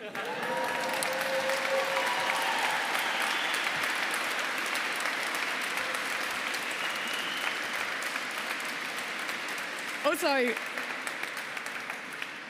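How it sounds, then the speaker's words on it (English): Sustained applause from an audience at a University of Kent graduation ceremony in Canterbury Cathedral, a dense, steady clatter of many hands that slowly tapers, with a brief word spoken over it. "I really appreciate these rounds of applause."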